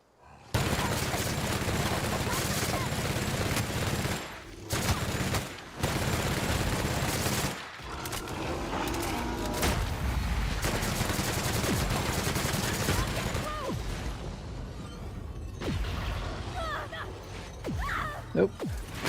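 Sustained rapid gunfire from a gun in the video game The Outer Worlds, loud bursts running almost continuously with short pauses, then thinning out near the end.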